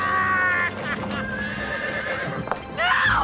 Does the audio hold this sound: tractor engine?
no